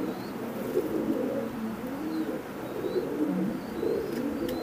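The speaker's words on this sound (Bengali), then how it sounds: "আপনারা জাস্ট একটু কবুতরগুলো কেমন এটা দেখুন" Imported teddy pigeons coo softly and repeatedly in a loft, low throaty calls rising and falling, with a few faint higher chirps in the background.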